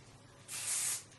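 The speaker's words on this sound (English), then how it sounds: "Take my spray," A single short burst of hair spray hisses for about half a second, close and fairly soft.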